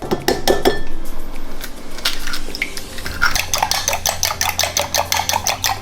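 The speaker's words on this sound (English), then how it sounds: "you're gonna mix it until it's as incorporated as you could get" Calzone filling stirred in a bowl, a spoon scraping and clinking against the dish in a quick, steady rhythm, close and fairly loud with no talking.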